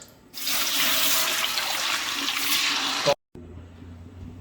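Water gushes steadily into a pot of rice for mutton biryani, a loud continuous pour lasting about three seconds before stopping abruptly, followed by quieter kitchen sounds.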